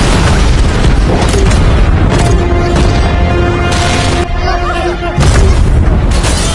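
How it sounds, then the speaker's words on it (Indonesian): Landmines blow up in an Indian action film: a run of loud, heavy booms and rumbling blasts crowds the scene, broken by a brief lull before another burst, with sustained tones underneath. "lalu melemparkan beberapa orang anak buah Francis ke tempat yang ada ranjaunya, yang membuat ranjau-ranjau tersebut meledak"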